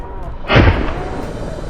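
A single loud hunting rifle shot fired at close range during a wild boar hunt, one sharp blast with a short rolling echo that trails off over low background noise.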